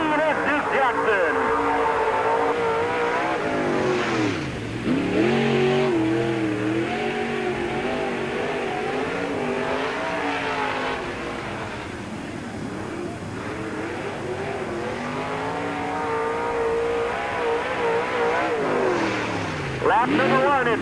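Race car number 14, driven by Duke Jackson of Clinton, Iowa, laps Peoria Speedway during the 1997 Busch 100. Its loud engine pitch sweeps up and down as it passes repeatedly, roaring near and then fading.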